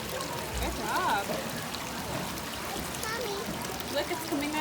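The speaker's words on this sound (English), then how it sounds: "The water's coming out on the other side." Water pours and trickles through a hands-on exhibit at the Denver Museum of Nature & Science, a light, steady flow under a voice and other indoor chatter.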